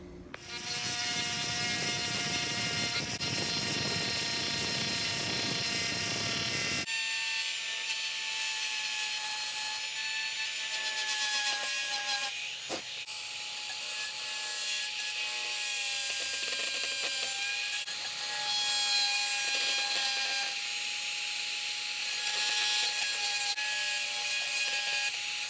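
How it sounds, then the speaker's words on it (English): Dremel rotary tool fitted with a small sanding bit grinding at a plastic gauge cluster from an EF Civic, a steady high-pitched whine that drops in pitch after a few seconds and keeps buzzing unevenly throughout, close and alone. "I'm going to use my handy dandy Dremel with a little sanding bit on the end of it,"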